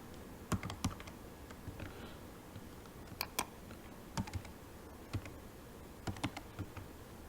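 Quiet keystrokes tap on a computer keyboard as login information is entered, coming in scattered short bursts and single clicks against a low, hushed room background, with no talking.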